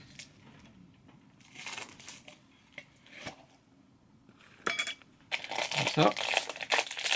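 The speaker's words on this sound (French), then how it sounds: "Hop, on va enlever le blister." Plastic blister packaging is peeled and torn off a DC Comics mystery box, loud crinkling bursts in separate bouts with quieter handling between, and a voice speaks briefly.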